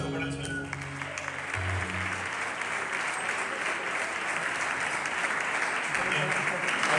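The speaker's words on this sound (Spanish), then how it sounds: "aplauso para el Señor" A church congregation applauds for the Lord during a service, a sustained, dense wash of clapping that holds steady throughout. A voice speaks briefly near the start, beneath the clapping.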